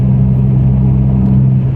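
A car drives along a road, its steady low engine rumble and road noise loud and continuous from inside the cabin, with no speech.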